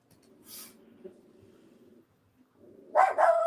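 A puppy named Teddy gives a brief low growling grumble, then a short burst of sharp, fairly loud yappy barks at the end, heard close by in a quiet room.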